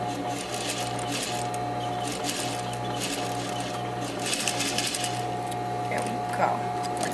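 A sewing machine stitches an apron in a steady mechanical run with a constant hum, continuing close and alone for several seconds.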